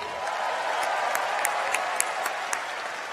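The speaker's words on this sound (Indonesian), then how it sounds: "Tepuk tangan untuk Bu Siti" A steady wash of audience applause fills a formal hall after a presidential speech honours a woman, sustained and even throughout, with a few sharper individual claps standing out.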